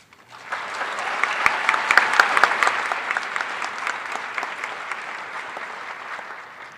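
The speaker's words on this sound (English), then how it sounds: "let's give a round of applause to the wonderful Cherokee Chamber Strings." A full audience applauds at the Cherokee People's Choice Awards 2024 ceremony, welcoming the Cherokee Chamber Strings: dense, steady clapping swells after a quiet start, holds strongly for several seconds, then thins toward the end, with no voices on top.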